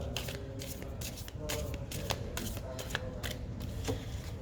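Tarot cards being shuffled in rapid riffles, a crisp flurry of flicking and snapping close by, with brief pauses between bursts.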